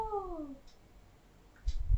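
A cat gives one clear, descending meow up close, followed by quiet rustling and a couple of low bumps.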